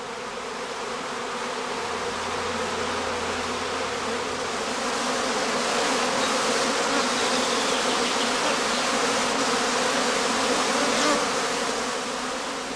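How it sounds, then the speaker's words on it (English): Honey bee swarm pouring out of a skep entrance during cast swarming on a heathland apiary, a loud steady buzzing drone of many bees that holds without a break throughout. "the swarm follows the queen out of the skep entrance in a regular cascade"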